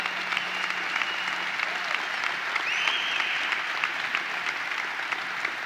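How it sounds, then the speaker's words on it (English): A crowd at the opening of a new expo center at the 2018 Great New York State Fair claps steadily for several seconds, an even wash of handclaps with faint voices beneath. "Let's give them a round of applause."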